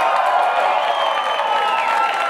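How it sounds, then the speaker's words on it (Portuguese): Crowd applauding and cheering for a female voguing dancer at a vogue ball event, a steady dense wash of clapping and voices sustained throughout at close range. "so give her a round of applause"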